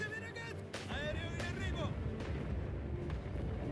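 Heavy artillery fire in the World War I shooter Isonzo rumbles continuously at a distance, a deep, steady roar with occasional swells, while someone talks over it in the first couple of seconds.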